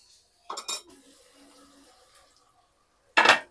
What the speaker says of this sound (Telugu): మూత కూడా పెట్టేస్తున్నాను